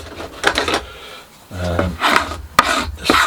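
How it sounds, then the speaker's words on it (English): A scraper rasps dried glue off the surface of a wooden caul in short, close, gritty strokes, with brief pauses between passes and one sharp knock. "Just going to scrape off all the surface first."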